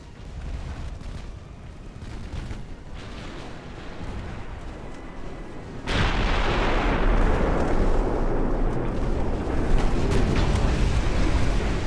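Naval gunfire in the warship game Ultimate Admiral: Dreadnoughts, with distant rumbling salvos that give way midway to a sudden loud, sustained roar of heavy firing and blasts.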